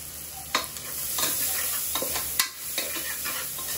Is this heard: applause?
no